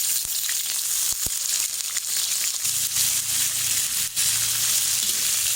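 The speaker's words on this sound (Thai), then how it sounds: "เราก็จะทอดให้เหลืองเนาะ" Fatty pork belly sizzles and fries in a pot, a loud steady crackle with occasional pops and stirring and no talking.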